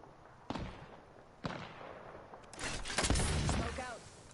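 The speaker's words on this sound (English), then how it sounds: "Taking fire." Video game gunfire cracks out in a few sharp, separated shots, then swells into a denser burst of firing and rumble, with talk over it.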